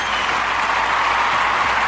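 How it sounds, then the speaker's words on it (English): Steady, dense applause from a crowd, evenly loud and unbroken for the whole stretch, with no voices over it. "I need to give all of you a big motherfucking round of applause"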